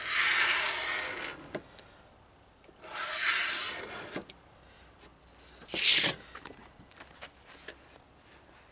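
A knife's back edge scribing lines on a Jeep Wrangler YJ dash water shield, giving raspy rubbing strokes, a few longer scrapes with short pauses between them and small taps and clicks, close and without talk.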